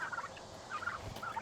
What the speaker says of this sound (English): I don't think those turkeys are afraid of you